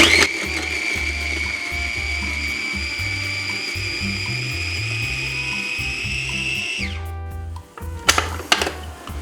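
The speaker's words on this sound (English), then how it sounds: "And now we are going to grind this one up." An ingredient is ground during a cooking quest in a video game, giving a steady whirring mechanical drone with a sustained tone that drops away near the end, followed by a few sharp clicks.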